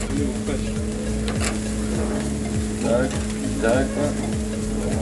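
Steady, loud sizzling of meat cooking over high heat in a Turkish oven at a restaurant in Bordeaux, with faint clinks and background murmur mixed in.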